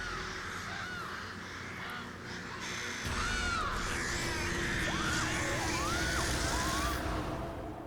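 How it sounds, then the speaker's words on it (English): Crows cawing and croaking in a rising, busy chorus at night over a steady outdoor background, with no talk. "Those birds are a little bit too active considering the time of night."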